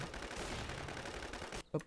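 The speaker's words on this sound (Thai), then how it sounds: "เสียงปืนอย่างดังแป๊บนึงนะ" Loud gunfire in a shooting video game, rapid bursts of shots rattling densely over a short stretch before a brief gap and one final sharp burst.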